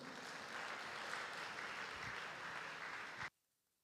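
A church congregation at an Assembleia de Deus service gives warm applause, a steady, dense, quiet wash of clapping that cuts off abruptly into silence near the end.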